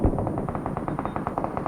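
Rapid automatic bursts from an Uzi submachine gun in a battle royale video game, a fast steady rattle of shots repeating throughout at close range with loud, even intensity and no talk.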